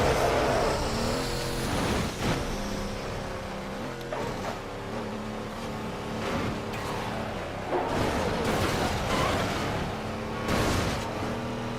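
A Dodge SRT car races in the Midnight Club 3 video game, with a continuous loud engine roar rising and falling as it revs and accelerates, carrying on without any talk.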